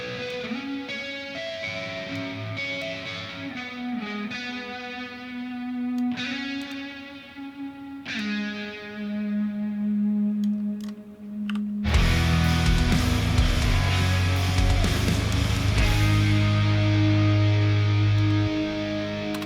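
An electric guitar through an amp plugin plays a slow melodic lead with sustained notes, then switches to a louder, distorted, driving passage, no voices.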